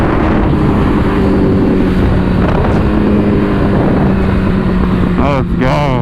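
A 2008 Honda CBR1000RR sport motorcycle being ridden, its engine droning loud and steady under heavy wind buffeting, with a short rising rev near the end.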